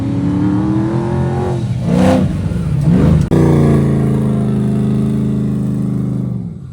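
An old-body OBS Ford F-150 pickup engine revs hard while crawling off-road through dense trees, rising and falling in loud, sustained strained bursts with a brief drop near the middle before surging again.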